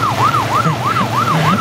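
Ambulance siren wailing in a steady, repeating rise-and-fall pattern on a flooded highway in Bacoor, loud and close, with a low rumble of road traffic underneath.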